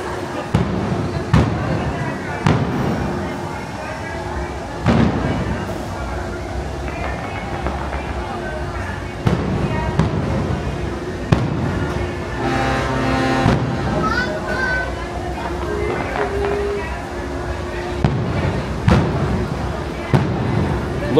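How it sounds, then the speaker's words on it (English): A Disneyland fireworks show heard from a distance, with repeated sharp bangs and booms at irregular intervals over crowd murmur, and people talking throughout. "Got a little fireworks show too."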